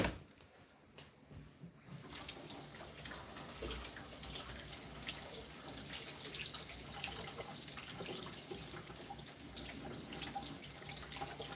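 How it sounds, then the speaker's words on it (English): Tap water runs steadily into a sink while a Mora knife is rinsed of mustard, a brief quieter moment at the start before the stream settles into a continuous close splashing rush. "Let me rinse this real quick."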